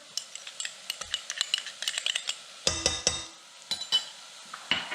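Garlic is stirred into cooked onions in a soup pot for green chili and potato soup, giving rapid close scraping and clinking of a spoon against the pot over a soft sizzle, with no speech.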